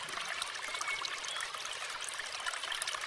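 Water pours into a storage tank as an animated-story sound effect, a continuous bright splashing trickle at steady volume, heard alone with no talk.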